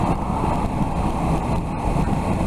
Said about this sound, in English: there's the wind, I'd say, is just on the top of my helmet